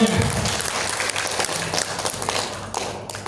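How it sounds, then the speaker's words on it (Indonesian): Short burst of audience clapping at a university curriculum workshop in Indonesia, a modest crowd applauding briefly with some voices and shuffling underneath before it fades. "tepuk tangan untuk kita semuanya."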